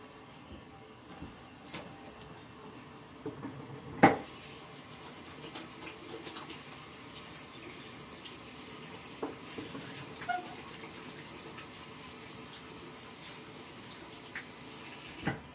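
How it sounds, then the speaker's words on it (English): Tap water runs steadily into a sink while hands are washed beneath it, a soft continuous splash broken by a few sharper knocks and clunks nearby. "I'll wash my hands."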